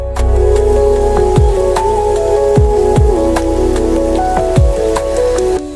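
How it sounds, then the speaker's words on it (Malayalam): Heavy rain falls steadily at an estate house in Konni beside the forest, a continuous wash with several soft, heavier drips landing near the listener and a faint tonal hum underneath. "ഞങ്ങൾ അവിടെ ചെന്ന സമയത്ത് പെയ്യാൻ കാത്തു നിന്നതുപോലെ ഒരു നല്ല മഴയും പെയ്തു."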